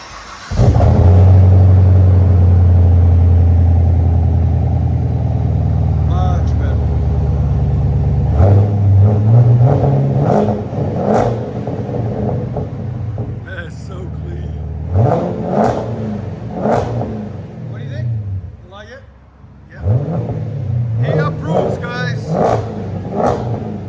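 A Chevy Camaro SS with a 6.2L V8 and aftermarket exhaust revs hard, heard from inside the cabin: a deep, loud rumble that climbs and falls in several bursts, with people talking in between.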